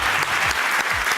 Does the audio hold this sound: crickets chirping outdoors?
no